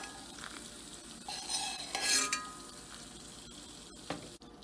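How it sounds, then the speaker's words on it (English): Ingredients roasting in a pan over a medium flame, soft sizzling under brief scraping stirs and a few light metallic clinks, close but quiet. "Roasted for 3 to 4 minutes on medium flame."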